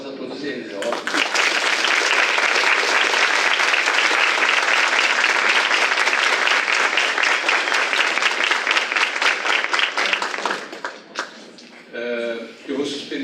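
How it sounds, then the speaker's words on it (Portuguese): Sustained applause from an audience honoring the participants of a mock jury trial, loud and dense for about ten seconds, then tapering into scattered claps and voices. "Gostaria de uma salva de palmas a todos eles"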